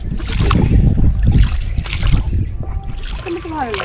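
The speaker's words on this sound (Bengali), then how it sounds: "তো আমরা এখন ইছামতি নদীর ওপর দিয়ে এই নৌকাতে 3 জনে একসঙ্গে যাচ্ছি।" Rowing boat carrying three people along the Ichamati river beside forest, water splashing and sloshing around the hull under steady talk, with faint bird calls coming through near the end.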